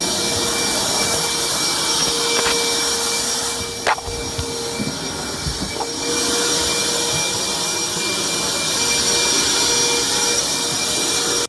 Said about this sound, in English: I love the vacuum in the background.